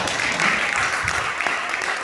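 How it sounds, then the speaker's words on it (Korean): Brisk applause from a church revival meeting congregation, a continuous patter of many hands clapping at a steady level. "박수 한번 쳐줘."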